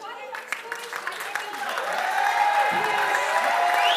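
Applause from the crowd at the ISSF Shooting World Cup in Bhopal as the 25m pistol women's finalists walk out, building gradually beneath an announcer's amplified voice and hall music.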